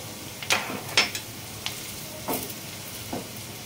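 Chili powder and cumin sizzling in hot oil in a pan for dahi bhindi, a soft continuous fry punctuated by several quick scraping stirs at irregular intervals, close and fairly quiet.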